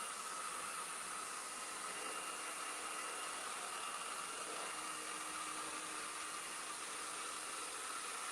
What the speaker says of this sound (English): I apologize for the blow dryer